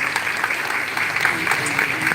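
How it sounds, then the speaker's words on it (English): A crowd applauds a keynote speaker at an education event, a short burst of steady, full clapping heard close with faint voices mixed in. "let's give him a big round of applause, please"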